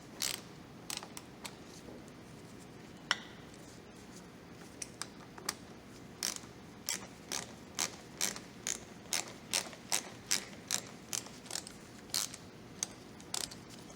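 Ratchet clicking as it turns an E40 Torx socket on an elbow extension while cleaning a BMW VANOS solenoid, about two dozen crisp close clicks in quick sets with short pauses.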